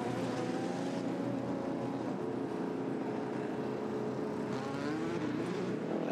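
A Le Mans prototype race car at the 2019 24 Hours of Le Mans pulls away after a pit stop, its engine a steady loud rising drone held for several seconds with no voices.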